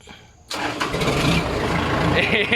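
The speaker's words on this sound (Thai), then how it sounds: "แล้วก็ใส่เกียร์หนึ่งใส่ถอยหลัง แล้วก็สตาร์ทครับ" A vehicle engine with a sticking clutch cranks and catches after about half a second, then runs loudly and steadily while someone talks over it.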